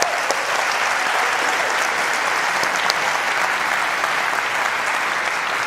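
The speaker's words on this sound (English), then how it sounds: "So please give them a nice round of applause." Audience applause at the Georgia Tech InVenture Prize final, a steady, dense wash of clapping from a large crowd in a hall, loud and unbroken throughout.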